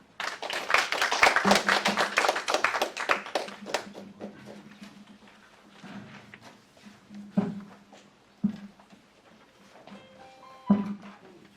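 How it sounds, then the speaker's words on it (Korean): Brief applause from a small audience at a Korean policy forum on employment insurance, a burst of scattered clapping in the first few seconds that quickly thins to a few isolated claps and taps. "장기현 박사님께 다시 한번 박수 보내드립니다"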